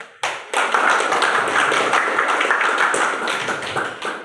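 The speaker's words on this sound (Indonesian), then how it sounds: "kita beri akan tepuk tangan dulu" Classroom clapping from students at a school debate, a brief pause then a loud, close burst of many hands beating steadily and tapering off toward the end.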